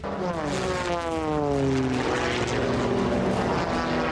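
Racing propeller aircraft flying a pylon course, engine drone loud and steady throughout with a rising then falling pitch as a plane sweeps past close by.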